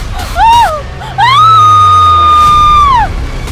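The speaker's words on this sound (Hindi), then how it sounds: "तो एक दबी सी चीख उसके मुंह से निकली" A woman's scream for a horror story rings out loud and close, first as a short cry and then as a long sustained wail that trails off over a low droning background.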